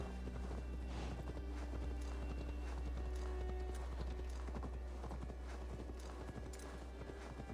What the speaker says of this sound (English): To call your quote-unquote horse. My big fat brown horse.